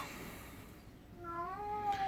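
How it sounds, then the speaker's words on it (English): A cat meows and moans in drawn-out, rising wails near the end, fairly close, with no talk over it. "That cat's going crazy."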